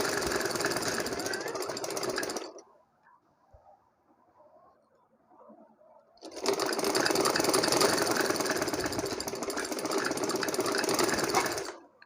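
Sewing machine stitching a cut work sleeve: a loud, rapid, close mechanical chatter that stops for a few seconds of near quiet, then resumes in a longer steady run.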